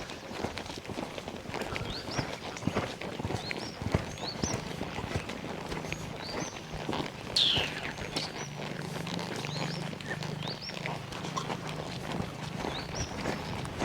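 A Marwari stallion's hooves beat faintly during dressage training in an arena, barely standing out in a busy, noisy outdoor setting. Soft scattered thuds and rustling continue throughout with no speech.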